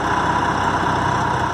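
A Volvo truck engine runs steadily at idle in a workshop while it is being positioned, a loud, continuous low rumble with no pauses and no voices.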